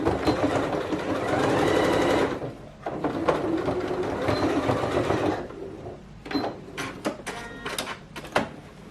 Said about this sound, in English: So you are going to stitch it in a slant, all right?